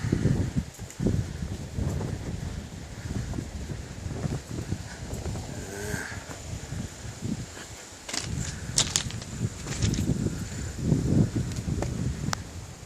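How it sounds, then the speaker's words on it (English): Wind gusts steadily across an open outdoor spot near a river bridge, a broad rushing roar with buffeting microphone noise and brief rustles, fairly loud throughout with no talk. "let's get out of the wind real quick"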